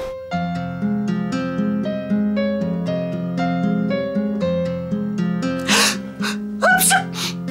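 A sudden sneeze bursts out near the end, preceded by a sharp intake of breath, over steady background music.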